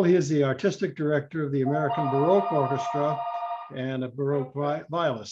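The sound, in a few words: telephone ringing in the room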